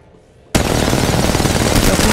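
Rapid automatic gunfire in the Apex Legends shooter game, bursting in loudly after a brief quiet moment and continuing as a dense, sustained volley of shots with no pauses.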